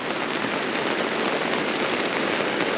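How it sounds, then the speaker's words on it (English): Rain falls steadily on a rain gutter water catcher in South Australia, a close, even hiss of dense drops pattering on the surface with no voices. "it's raining and we're catching water"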